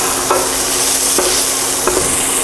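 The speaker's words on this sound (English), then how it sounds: "When you hear that sizzle, you know you have a saute going." Steady loud sizzling of vegetables sauteing in a pan, with a few soft scrapes of stirring at intervals.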